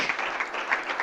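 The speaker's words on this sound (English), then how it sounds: "I'd like to suggest a quick round of applause for an unbelievable week" A brief burst of audience applause at the closing ceremony of a Dubai talent-based economy hackathon, a steady patter of many hands clapping at moderate distance.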